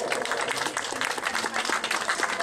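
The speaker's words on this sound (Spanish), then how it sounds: "Un fuerte aplauso para ellos." A crowd of families at a preschool Family Day celebration gives a strong round of applause, dense and continuous clapping, with a hum of voices beneath it.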